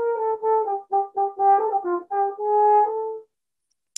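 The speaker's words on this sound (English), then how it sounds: "With valves, it sounds like this." A French horn played with valves runs a quick phrase of clean, evenly articulated notes, ending on one longer held tone, heard solo and up close.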